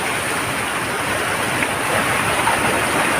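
Fast, swollen floodwater in a river rushes past in a loud, steady roar with a dense churning wash, continuous and close, with no voices.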